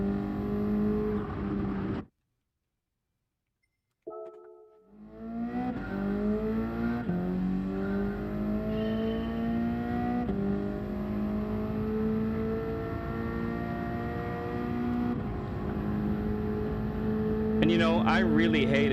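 A Subaru BRZ race car engine in Gran Turismo 7 revs and climbs through gears with rising, sustained engine tones, briefly cutting to silence before accelerating again loudly and continuously.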